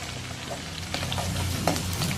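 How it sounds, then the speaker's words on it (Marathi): Onion and garlic-ginger paste sizzle in a hot tempering for a Marathi-style capsicum dish. A steady crackling fry runs throughout with occasional stirring clinks, close up and without speech. "आता कांदा टाकला आहे. तर त्याला थोडासा लालसर होऊ देते आणि मग मी त्यामध्ये लसूण अद्रकचा पेस्ट टाकते."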